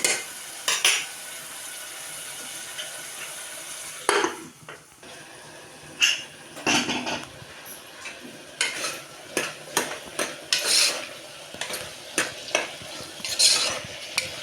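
Tomatoes and onions stirred and cooked down in a pan, a spoon scraping and clinking against the metal in repeated strokes over a soft sizzle, close and fairly loud with no talking.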